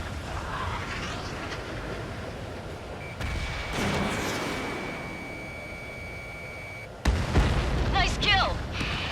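Enemy aircraft explodes in the jet combat game Ace Combat 7, a deep boom rising over steady engine roar, followed by a second heavy blast near the end while radio voices talk over the action.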